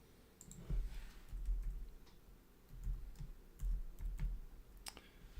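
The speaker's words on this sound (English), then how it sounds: "So just type in the IP" Keys clatter on a computer keyboard as an IP address is typed, quiet irregular clicks in short bursts with brief pauses, nearby and with no talking.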